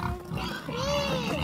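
Pigs on a rural farm in France grunt and squeal in a short burst of a few calls, close and fairly quiet, with faint talk nearby.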